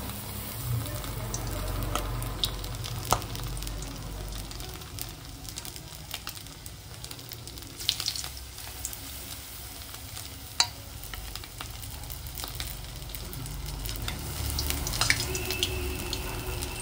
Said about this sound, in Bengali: তেল দিয়ে দিয়েছি কড়াইতে, আর তেল কিন্তু গরম হয়ে গেছে। আর আমরা এক এক করে ছেড়ে দেবো এই মাছগুলোকে।